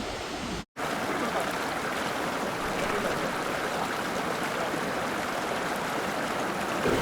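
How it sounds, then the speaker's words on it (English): Fast river water rushes steadily beneath a bridge on a mountain road in North Sikkim, a loud, continuous wash of flowing stream heard alone and close by. "Check the flow of the water."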